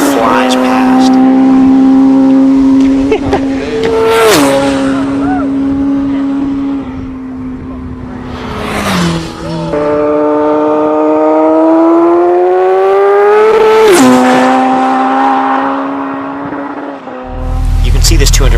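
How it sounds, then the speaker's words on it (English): Race motorcycles pass at about 200 mph, each a loud, rising and falling engine whine that rips past up close, with several passes in succession and short dips between them. "The feeling of a bike coming by at 200 miles an hour is a visceral ripping of the air as it flies past."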